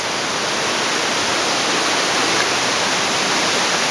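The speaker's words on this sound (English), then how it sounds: "And this is a big waterfall inside of it." A big waterfall roars inside a dark, narrow tunnel in Taiwan, a steady, dense rush of falling water that fills the space at close range without a break for the whole stretch.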